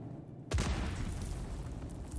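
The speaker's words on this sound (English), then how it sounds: "you'll trigger an explosion" A video game explosion in Dune: Awakening bursts in suddenly after a brief quiet moment, a low boom that settles into a fairly soft, sustained rumble.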